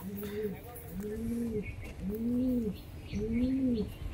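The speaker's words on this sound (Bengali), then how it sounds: "একটা বোম হাইট বাজির পায়রা" A single male high-flying pigeon gives four steady, close, rounded coos at an even rhythm over a light background murmur.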